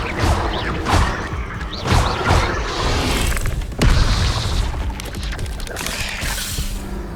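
Incendio fire spell cast in a Harry Potter game, a run of whooshing bursts and booming impacts, loud and close, with a heavy blast partway through.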